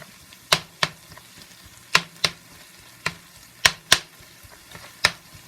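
Albacore tuna and onions stirred in a frying pan, a spoon scraping and knocking the pan in about a dozen sharp, irregular strokes over a faint sizzle, close and alone.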